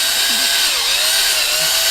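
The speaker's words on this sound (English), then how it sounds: "then you just drive it home with the drill" A power drill drives a dowel pin into a wooden shutter during a repair: a loud, continuous motor whine with a wavering pitch, steady throughout and close by.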